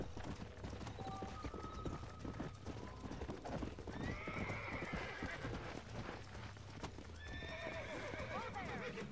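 Horse hooves clip-clopping along with several whinnies, a horse in Red Dead Redemption heard at moderate distance, with someone talking over it.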